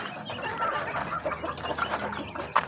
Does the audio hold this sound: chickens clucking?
yes